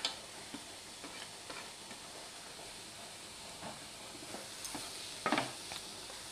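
Cabbage, capsicum and carrot for a momo filling fry quietly in a pan, a soft steady sizzle with scattered clicks and scrapes of stirring and one sharper clatter toward the end.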